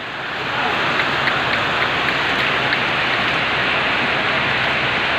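Heavy, steady morning rain pours down continuously, a dense hiss of drops on surfaces close by, with no talking.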